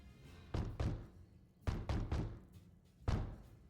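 Heavy knocks on a door in the video game Donjon de Naheulbeuk come as two pairs and then a final single knock. Each knock is a deep wooden thud, sounding fairly close over a low background hum.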